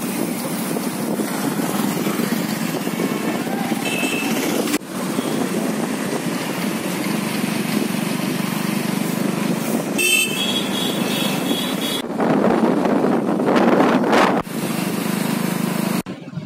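Strong gusting wind roars and buffets across the microphone during a storm that brought down trees, steady and loud with sharper surges, no speech.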